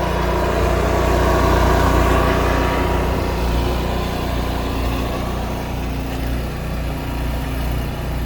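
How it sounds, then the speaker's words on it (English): Onboard generator of a 2007 Fleetwood Tioga 31L RV running with the air conditioning on, a loud, steady engine drone that stays constant from start to finish. "Gen is on, it's got the AC going"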